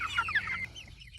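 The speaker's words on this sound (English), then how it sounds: "they're doing a lot of scavenging, pecking at the ground, and just being chickens" Meat chickens out on pasture give a steady stream of close, overlapping clucks and soft chatter, fairly loud throughout with no talking.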